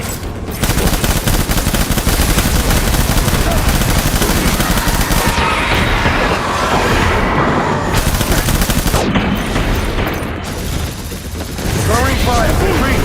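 Heavy, sustained automatic gunfire in Death Stranding, loud and dense bursts rattling almost continuously with brief pauses, while voices shout over the shooting.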